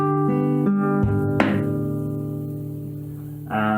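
Acoustic guitar body slapped to mimic a kick and snare for a song, with open strings ringing in sustained chords and one sharp percussive strike cutting through near the middle, close and fairly loud with no voices.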